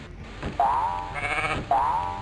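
Two wavering sheep bleats from a Tetris-style video game, each short and clear, spaced about a second apart over a faint electronic background.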